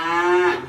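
A cow on a cattle ranch with calves moos once, a loud, close, sustained low call that fades at the end.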